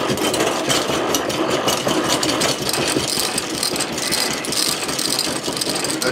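A honey extractor spins frames to sling out honey, its motor humming steadily under a loose, continuous rattle from the unbolted machine, close and fairly loud.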